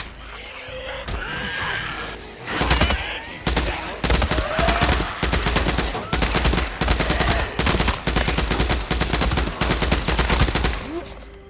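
Gunfire in the video game Days Gone, loud rapid automatic bursts repeating in tight clusters for several seconds, following a quieter stretch with some talk and game sounds.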